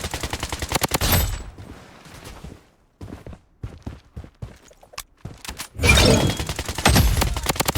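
Bursts of automatic Scar rifle fire in the shooter game Blood Strike, loud rapid volleys at the start and end with scattered single shots and footsteps in a quieter stretch between.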